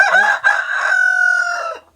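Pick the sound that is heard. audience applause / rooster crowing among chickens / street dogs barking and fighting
rooster crowing among chickens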